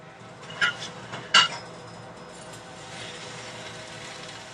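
A grilled cheese sandwich is flipped over in a pan, giving two quick metallic clinks of the spatula against the pan over a faint, steady background hiss.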